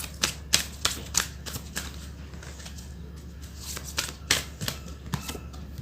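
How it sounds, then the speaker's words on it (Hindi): Tarot cards shuffled and drawn from a deck, making crisp, irregular snaps and flicks in quick clusters with short pauses, close and fairly clear over a low steady hum, with no talking. "कुछ और कार्ड्स पुल कर लेते हैं।"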